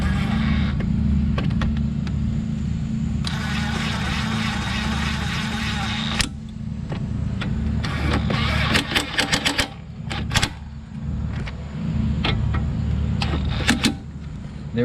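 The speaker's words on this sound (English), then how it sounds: "I'm just going to snug them in with the impact" An impact wrench snugs 13 mm bolts on a Jeep Compass front strut, a run of short mechanical rattling bursts over steady low garage hum, fairly close.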